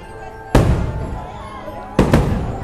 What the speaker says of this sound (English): Fireworks time.